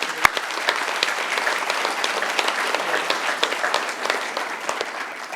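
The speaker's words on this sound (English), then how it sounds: "Let's give them all a big round of applause." A graduation audience at York River Academy's 2022 ceremony bursts into sustained applause, dense steady clapping filling the room with a few sharper claps standing out near the start.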